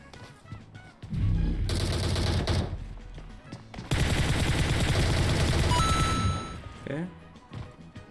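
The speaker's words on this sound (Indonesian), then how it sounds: "Dia nembakin boneka gua sem." Automatic gunfire in PUBG Mobile aimed at a decoy dummy, two long loud bursts of rapid shots separated by a brief lull, with quieter game noise around them.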